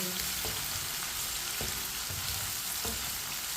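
Okra (bhindi) frying in a pan, a dense continuous sizzle with occasional soft stirring knocks, close and steady throughout with no voices.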